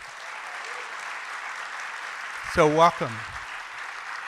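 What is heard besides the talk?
audience applause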